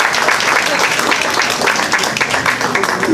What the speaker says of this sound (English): we'll give a round of applause to him as well.